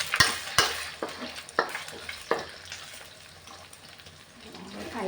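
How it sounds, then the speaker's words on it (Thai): Eggs stir-fried with Thai fermented pork sausage (naem) for fried rice, giving a soft sizzle broken by several sharp scraping strokes of a spatula against the pan, close and fairly quiet. "เขาผัดไข่กับแหนมนะคะ"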